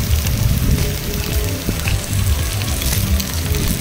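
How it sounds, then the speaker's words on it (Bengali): Hot oil crackles in a wok as food fries, a dense, continuous sizzle with fine popping and spitting, steady and fairly loud from start to finish. "দিয়ে এটাকে আমি ভালোভাবে ভেজে নেব"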